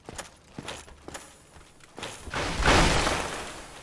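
Video game footsteps, a series of soft regular thuds and taps, fairly close, followed by a rising whooshing rush near the end, with no talk over them.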